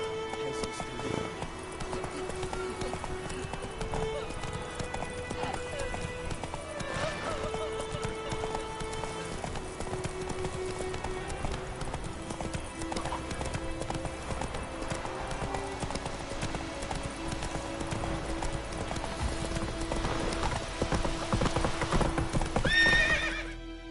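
A horse in The Witcher 3 gallops with continuous rhythmic hoofbeats and occasional whinnies, with faint speech in the background.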